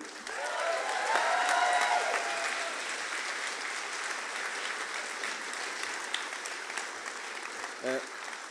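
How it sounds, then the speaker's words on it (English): A union rally audience gives a round of applause for a guest speaker, steady clapping that holds for several seconds and then thins, with a voice briefly over it. "Thanks for the round of applause"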